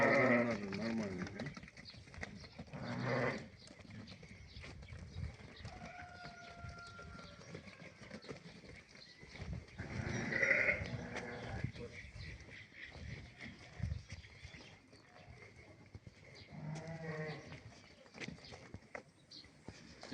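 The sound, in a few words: flock of sheep being herded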